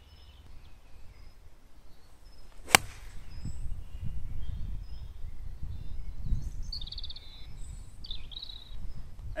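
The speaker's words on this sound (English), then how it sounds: "the sound of the strike on these shots is very clean, and it may also sound quite thinny" Golf 9-iron striking the ball cleanly outdoors, one sharp crisp click partway through over soft wind and background noise, followed by faint bird chirps.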